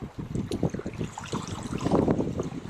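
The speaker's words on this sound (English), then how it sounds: "the winds are starting to pick up" Wind gusts across choppy water during a wilderness kayak trip, giving steady microphone buffeting with irregular slaps and splashes of small waves close by.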